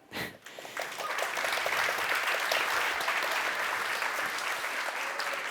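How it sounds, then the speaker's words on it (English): An audience at a talk gives applause to a content team, a brief pause and then a sustained, even round of clapping from a crowd that fills the rest of the moment. "Some applause for them."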